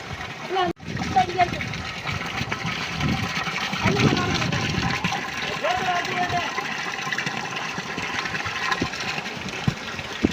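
Water gushes and splashes continuously in a steady rushing stream as it is sucked into a pipe from a drum used for mixing fertilizer on a farm, with faint voices in the background.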